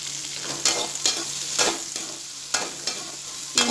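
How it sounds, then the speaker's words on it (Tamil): Onion and garlic sautéing in a pan for tomato gravy chutney, a steady sizzle punctuated by regular spoon strokes scraping the pan, about seven sharp stirs in under four seconds, close and clear. "அதில் வெங்காயம் பூண்டையும் இது நல்லா வதக்கிப்போம்."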